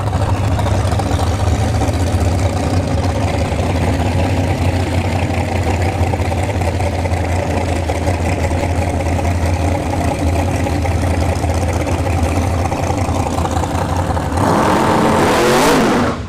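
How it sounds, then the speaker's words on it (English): A drag racing car at a Bradenton Motorsports Park drag racing event launches and spins its tires, a loud, sustained engine roar that holds steady and then rises into a sharp, harsh burst near the end, with no talking. "Spun the tires again, unfortunately."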